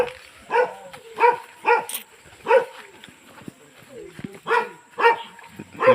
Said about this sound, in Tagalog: Laki ng aso ah.